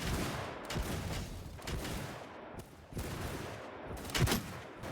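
Rapid bursts of gunfire crackle in a World War II-style battle game with Japanese infantry tactics, with several volleys and short pauses between them, moderately loud and echoing.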